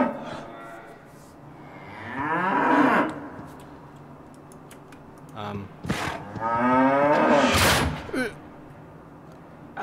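Cattle moo inside a slaughterhouse in the video game Cryostasis: two loud, drawn-out bellows, one around the middle and one near the end, separated by quieter ambient noise and a few brief clanks.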